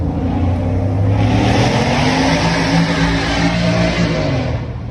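A loud car roars past close by, its engine droning and revving steadily before fading slightly at the end.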